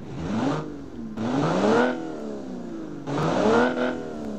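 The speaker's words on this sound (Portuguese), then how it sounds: "deixa eu ligar aqui a primeira versão pra gente comparar aqui o ronco do motor, né?" Car engine from the Automation game, a 2.2-litre six-cylinder making 80 HP, revving up and down in repeated rising sweeps, loud and close with no voice over it.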